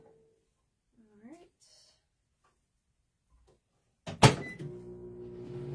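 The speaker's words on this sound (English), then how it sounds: "I'm going to pop this in the microwave for about 5 second intervals just to slightly soften it" A microwave oven used to soften gum paste starts with a sharp clunk of the door and buttons, then settles into a steady humming drone; faint handling sounds come before it.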